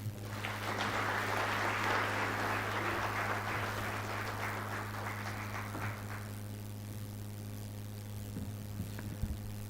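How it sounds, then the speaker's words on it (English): A crowd applauds steadily for several seconds at an annual conference after the president's speech, then the clapping fades away, leaving a low electrical hum underneath. "Another applause for our president"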